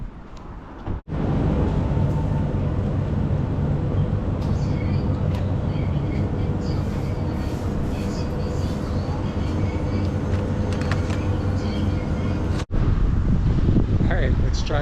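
Wind buffets the microphone in a loud, continuous roar that briefly cuts out twice before resuming.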